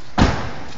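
A Mitsubishi Galant VR-4 car door shuts with a single solid, close thud and a short muffled lock engaging, then quiet.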